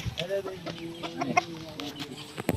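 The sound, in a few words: Talisay hen clucking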